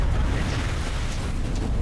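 Incendiary grenade blast in Call of Duty: Cold War, a loud, rumbling burst with a roaring, crackling fire wash that stays thick and low throughout, with no voices.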